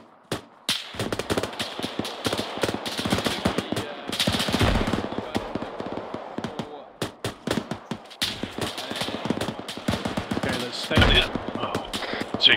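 Machine gun fire in the ArmA 3 military game, with rapid, close bursts cracking repeatedly throughout and some heavier volleys, as voices talk over the shooting.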